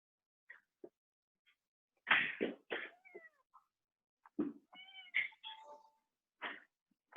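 A house cat meows indoors beside a computer: a handful of short, separate calls with quiet gaps between them, a few of them louder and drawn out, with no talking.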